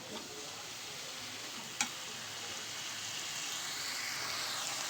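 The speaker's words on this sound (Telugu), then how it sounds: "ఇప్పుడు కొంచెం వేగనిస్తాను" Eggplant pieces fry gently in a pan for a dried fish curry, a faint steady sizzle with one brief sharp click partway through and no talking.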